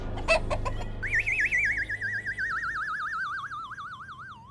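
A voice mimics an old clucking hen with a few quick clucks, then a long wavering, warbling high-pitched call that slowly fades.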